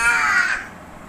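A young child imitates a hen clucking with a single short, loud, nasal call close by, fading quickly into quiet.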